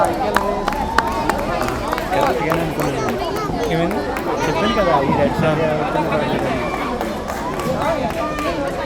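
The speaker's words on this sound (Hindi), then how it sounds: "जोरदार तालियां तो बजनी ही चाहिए, बजाते रहिए।" An audience applauds at a Nilotsav 2022 stage night: steady, dense clapping and crowd noise with cheers that holds loud for the whole stretch, with voices mixed in.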